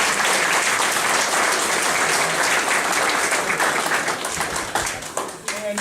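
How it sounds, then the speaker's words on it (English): Audience applause for a congressman at a Windsor district event, loud sustained clapping from a sizeable crowd, close and dense, thinning slightly toward the end with voices mixed in. "But let's give a round of applause"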